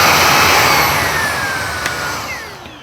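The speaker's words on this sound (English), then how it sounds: "If I wanted to boost up the suction, I'm gonna press that switch and it's gonna really bump up the suction." A Shark Vertex IZ462H cordless vacuum runs with suction boost engaged, a steady broadband whirring hum close by that eases slightly in loudness over a few seconds, with no talking.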